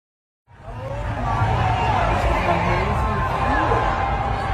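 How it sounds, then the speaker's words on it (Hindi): A large crowd in chaos on the streets of Israel, a dense roar of shouting and chatter that rises suddenly out of silence and holds steady and loud. "पहले भीड़ देख लीजिए, इजराइल की सड़कों पर अफरा तफरी जो मची है"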